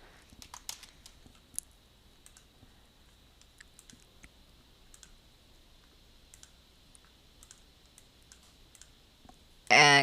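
Computer mouse clicking in Adobe Acrobat, scattered faint light clicks at an irregular pace over a quiet steady background hum, ending with a brief louder burst.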